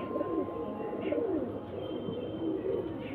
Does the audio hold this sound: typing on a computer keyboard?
no